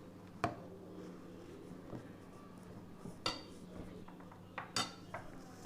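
Dosa batter is mixed in a bowl with a utensil, giving sparse, fairly quiet clinks and scrapes against the bowl, with three sharper knocks spread among softer taps over a low background hum.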